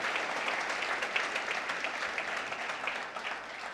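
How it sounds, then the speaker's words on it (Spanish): A church congregation applauds during a worship service, a steady, dense patter of many hands clapping together that continues throughout and fades slightly near the end, with no talk over it. "Le pueden dar otro aplauso al Señor con todo el corazón."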